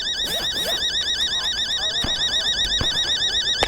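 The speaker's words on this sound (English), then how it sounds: "I'm assuming when that alarm goes off, that means somebody has been inside the building a little too long." A warbling electronic siren alarm in the survival game The Day Before, a rapidly oscillating multi-tone wail looping steadily and loudly throughout, with faint clicks and thumps beneath.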